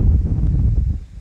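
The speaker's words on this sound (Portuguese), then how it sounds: "Tá ventando bem demais." Steady wind blowing across an open rural lot facing a large farm, a low rumbling buffet against the microphone, loud and continuous with no talking.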